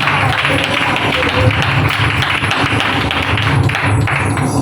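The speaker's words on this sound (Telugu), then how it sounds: "గట్టిగా చప్పట్లు కొట్టి ప్రభువు నామమున ఘనపరచు" A congregation claps loudly during a Friday worship service, giving praise to God. The clapping is dense and continuous, set against a busy room background with some low thumping.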